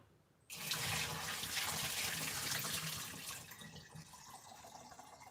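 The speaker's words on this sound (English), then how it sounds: "So now I'm just gonna pour this out." Soaking water suddenly gushes out and splashes into a sink in a steady pour, close by, gradually tapering off toward the end.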